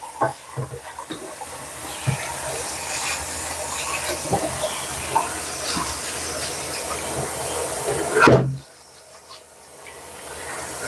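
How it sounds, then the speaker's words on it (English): Warm tap water runs steadily over chicken feet being washed in a kitchen sink, a continuous hissing splash with small handling knocks, cutting off abruptly near the end. "And I'm washing it with warm water."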